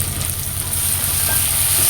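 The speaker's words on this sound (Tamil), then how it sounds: "தக்காளி வந்து கொஞ்சம் நல்லா வதங்கணும். வதக்கிக்கலாம்." Tomatoes and mint sauté in a pan for Bombay chutney, giving a steady, close sizzle and fry that holds evenly throughout with no voices.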